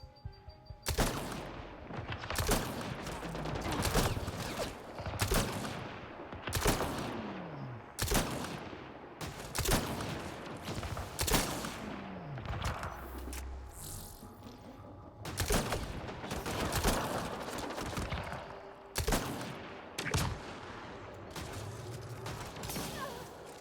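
Turret gunfire in the video game Mass Effect: Andromeda: a long series of sharp, loud blasts in irregular bursts, some spaced seconds apart, with mechanical clanks and rattles between them.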